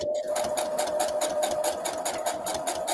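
A sewing machine runs steadily up close, stitching fabric scraps with a fast, even needle rhythm and a constant motor whine after a brief start.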